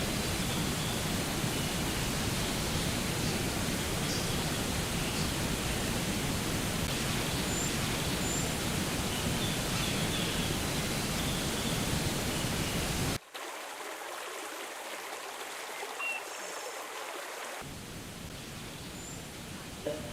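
The Aruvikuzhi waterfall in Idukki, Kerala, gives a steady, dense roar of falling water, loud and continuous, dropping briefly to a thinner hiss before the roar returns, with no voices.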